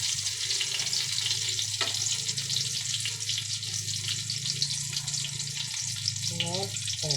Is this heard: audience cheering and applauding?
no